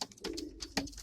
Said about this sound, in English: All right, that's one of my babies right here